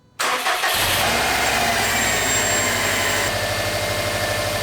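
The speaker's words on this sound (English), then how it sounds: "the car is ready to turn on and we're gonna try to see if it starts" A Subaru WRX STI engine cranks briefly and catches, quickly settling into a loud, steady rumbling idle close by.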